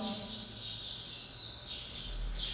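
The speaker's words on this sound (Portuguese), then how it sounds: "É meu pé de jabuticaba cheio de passarinhos." Small birds chirping and twittering in a jabuticaba tree, a steady busy chorus of high calls over low background hum, with no talking.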